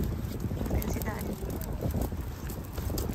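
Steady, loud wind buffets the microphone with a roaring rumble throughout in freezing weather around -7 degrees, with no clear talk standing out.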